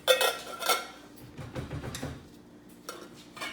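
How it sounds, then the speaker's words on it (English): Metal saucepans and pots clatter and clink as they are handled and set into a kitchen drawer, a few sharp knocks spread out with quieter scraping between them, close and fairly faint. "Double check this saucepan."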